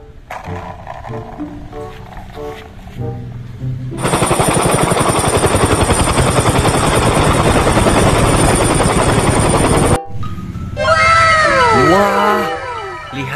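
A toy helicopter whirs loudly and steadily for several seconds, stops abruptly, then restarts with sweeping electronic sound effects.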